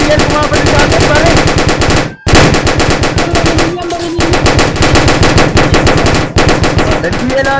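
Rapid automatic gunfire in the Roblox video game rattles loud and continuous, broken by two brief gaps before resuming in a sustained stream.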